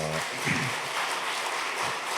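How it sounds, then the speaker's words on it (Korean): Church congregation standing and clapping in encouragement during a Sunday service, a short, even spell of moderate applause, with a faint voice briefly at the start. "격려의 박수 한번 하겠습니다"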